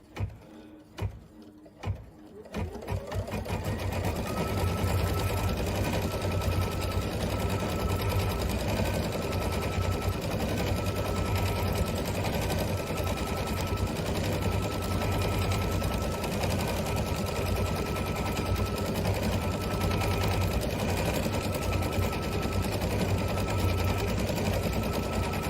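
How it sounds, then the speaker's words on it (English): An embroidery sewing machine quilts a project in the hoop, starting after a few short clicks and then running in a rapid, steady, close mechanical stitching chatter for over twenty seconds. "now it's going to be quilted in the hoop."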